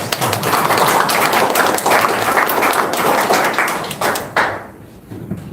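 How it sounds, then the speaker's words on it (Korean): Lecture-hall audience applause during a humanities talk, a dense sustained round of clapping that fades off near the end. "박수 한번 쳐주세요."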